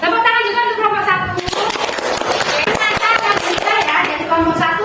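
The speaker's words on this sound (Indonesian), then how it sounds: "tepuk tangan juga untuk kelompok 1" A classroom of schoolchildren claps for a student group, brisk uneven hand claps starting after a moment of voices, with children's chatter and talk mixed in throughout.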